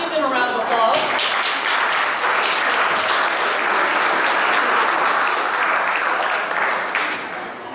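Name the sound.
audience applause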